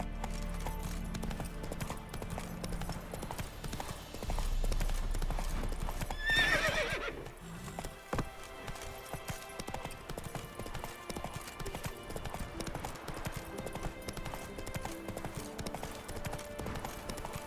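Roach, a horse in The Witcher 3 video game, gallops with steady, loud clip-clopping hooves, a whinny rising briefly near the middle before the rhythmic hoofbeats carry on.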